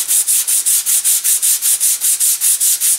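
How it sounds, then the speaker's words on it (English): Sanding block ridden lightly across a model airplane propeller, a quick even rhythm of about a dozen bright, raspy strokes, close and alone. "I'm not pressing down, I'm just riding the sanding block across the top"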